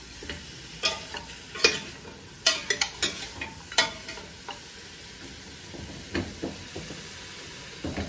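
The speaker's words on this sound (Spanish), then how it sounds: "Y voy a sellar la carne un poco" Beef oxtail sears in a pot with a steady low sizzle, broken by scattered sharp clinks and scrapes of a utensil against the pot, strongest in the first half.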